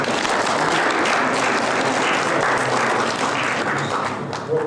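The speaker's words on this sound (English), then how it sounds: "I think we ought to give them a round of applause for the fine work that they've been doing for us." Steady, dense audience applause for legislators at a legislative update gathering, a full room clapping evenly without a break for the whole stretch.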